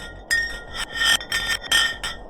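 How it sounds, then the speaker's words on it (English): A block of ice drops down a deep borehole in Antarctic ice, giving a rhythmic series of bright, ringing scraping bursts that repeat quickly, close and clear with no talk. "The pitches changed over the quick descent of the block of ice, ranging from high pitch and ending with a low heartbeat-like sound."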